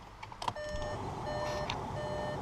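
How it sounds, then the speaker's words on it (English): A 2019 Volkswagen Polo GTI's door-open warning chime beeps over and over in a steady pattern, fairly loud and close, over a low engine-like hum. "I'll just shut the door so it stops beeping at us."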